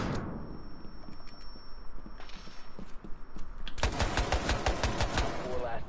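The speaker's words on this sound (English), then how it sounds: "Tossing stun grenade." A stun grenade goes off in a Rainbow Six Siege match: a sudden loud, dense blast with a ringing tail takes over the second half, after a stretch of game noise and a thin high tone.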